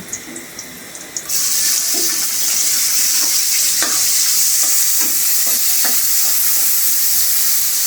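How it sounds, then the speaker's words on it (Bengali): Prawns hit a hot pan with a sudden loud sizzle after about a second, then fry in a steady, close hiss with occasional scrapes and clinks of stirring. "চিংড়ি মাছ কটা ভাজুন"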